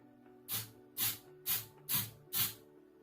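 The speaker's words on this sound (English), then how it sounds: "We can now just spray one more time on top." A spray paint can coats a bottle in five short, evenly spaced bursts of hissing spray, each about a quarter second long, close and clear over a faint background hum.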